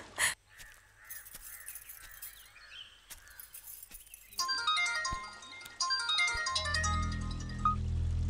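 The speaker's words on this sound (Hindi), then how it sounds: "एक कॉल आ रहा है" A phone ringtone for an incoming call starts about halfway through, a quick bright melodic figure that grows louder. Earlier, sparse clicks and crow-like caws sound against a quiet background, with a low droning hum entering near the end.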